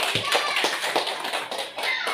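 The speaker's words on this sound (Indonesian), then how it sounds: "Boleh tepuk tangan dulu?" Audience applause at a school module presentation, a short burst of dense, steady hand clapping from a small group, close and fairly loud, with no voices over it.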